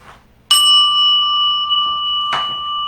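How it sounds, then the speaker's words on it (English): A bell rings out with a bright ding that hangs and slowly fades, then is struck a second time near the end, ringing on, during a Reiki healing ceremony. "Then you will hear the dinging of a bell."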